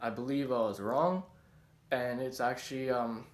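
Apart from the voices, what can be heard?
None of the usual background noises is heard.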